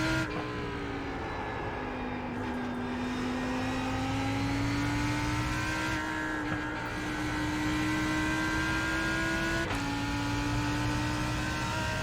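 Lamborghini Huracán GT3 Evo race car engine lapping Suzuka in iRacing, a steady loud harmonic drone that rises and dips slightly with gear changes across the whole stretch, alone with no talk.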